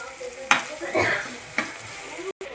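Mutton curry with tomatoes being stirred in a pan, a few separate scraping strokes over a steady low frying sizzle, heard close with no talking.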